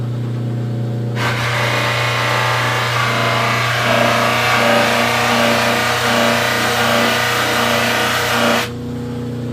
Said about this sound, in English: we're going to put a high polish on it on this wheel using rouge